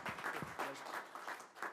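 Applause from a city council meeting audience, a modest, fairly quiet patter of clapping that runs for under two seconds, with faint voices mixed in.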